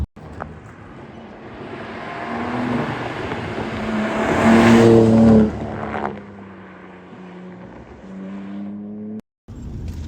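BMW M4 Competition accelerating hard on a winding California road, its engine rising in pitch to a loud peak around the middle before easing off, with steady drivetrain and road roar throughout and no talk.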